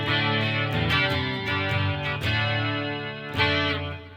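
An electric guitar plays a clean tone with the tone knob turned all the way up, bright and crystal-clear with a spanky edge, strummed chords ringing out loud and alone.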